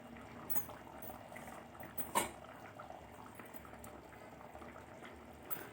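Curry leaves dropped into hot coconut oil for a sardine curry sizzle and bubble softly throughout, with a brief louder crackle burst in the middle; no one speaks.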